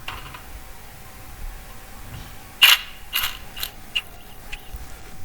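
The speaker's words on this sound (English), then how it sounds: "Once you remove the center bolt, you can release the spring and you can remove the timing belt" Metallic clicks and clanks of a timing belt being pulled off a Mazda Bongo engine after the tensioner spring is released, several sharp close knocks and rattles around the idler pulley.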